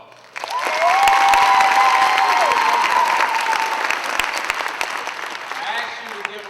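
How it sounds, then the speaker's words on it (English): Applause and cheering from a crowd at a political gathering in Jackson, Mississippi, rising suddenly to a loud, sustained roar with whoops and whistles, then easing slightly while continuing. "I asked you to give him a round of applause"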